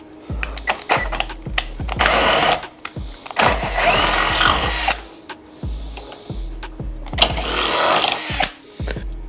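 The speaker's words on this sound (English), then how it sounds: "This is a 1/4" drill bit. Now I'm going to use that to open up this hole now." A power drill fitted with a 1/4 inch bit enlarges an existing hole while mounting an e-bike tail light, running in loud bursts of varying pitch with brief pauses between, close and alone.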